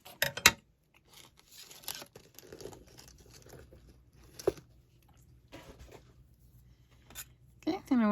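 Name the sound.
cutting with scissors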